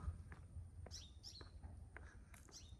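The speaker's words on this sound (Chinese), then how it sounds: "鸟语花香啊，有非常多的鸟。" Birds chirping by a river in a wooded resort grove in Long An, Vietnam: scattered short high tweets and calls from several birds, faint and distant over a low steady hum.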